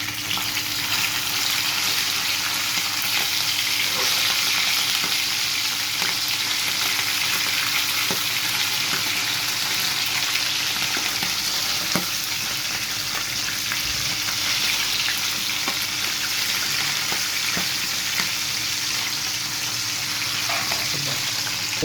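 Fish fries in hot oil, giving a loud, continuous sizzle and crackle with occasional small pops that hold steady throughout, with no talking.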